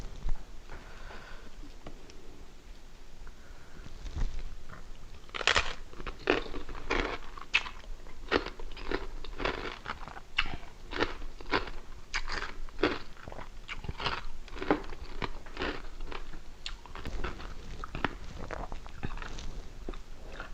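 Crunchy bites and steady chewing of crispy pork eaten with Thai papaya salad, a close, rhythmic series of loud crackling crunches repeating every half second or so with no talking.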